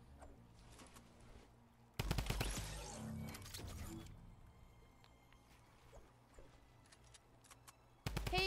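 Gunfire in the battle royale game Fortnite: a sudden loud burst of rapid shots lasting about two seconds, then quiet ambience and another burst starting right at the end.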